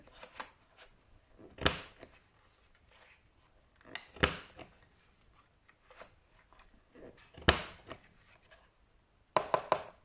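Crisp, isolated snips as a corner-rounding punch or scissors trims the corners of small 12 x 8 watercolour paper, several sharp cuts spaced apart in a quiet room.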